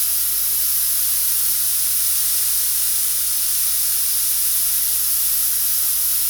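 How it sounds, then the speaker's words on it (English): An airbrush sprays paint in a steady, close hiss that runs unbroken for several seconds as a tiger is painted, with a faint low hum underneath and no talking. "Look, the stroke of the airbrush, my finger's not even moving"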